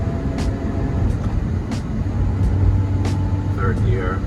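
A 2024 Lotus Emira sports car driving in second gear, its engine a steady low drone with road and cabin noise throughout and a few brief higher clicks on top.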